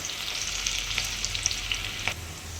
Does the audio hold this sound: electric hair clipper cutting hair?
no